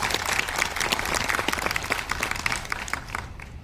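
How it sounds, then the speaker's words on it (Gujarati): Dense applause from a crowd at a journalists' association convention in Ahmedabad, steady and sustained throughout with many overlapping claps, fairly close and loud. "લાભુ દાદા માટે એક વખત જોરદાર તાળીઓ થવી જોઈએ"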